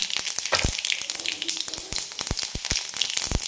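Mustard seeds and cumin crackle in about two spoons of hot oil, with a steady close sizzle broken by frequent sharp pops and spits, and no talking.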